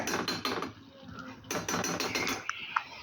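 A spoon scrapes and taps against a pan while spreading tomato gojju, giving a run of close, clattering metal strokes with brief pauses and a couple of sharper clinks near the end.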